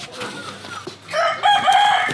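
A rooster crows loudly nearby, its strained, drawn-out call rising over faint background chatter, with other fowl clucking softly.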